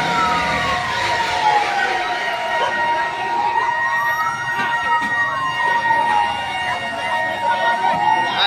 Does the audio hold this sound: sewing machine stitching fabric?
no